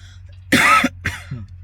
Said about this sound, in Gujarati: ખાંસી થઈ ગયેલી છે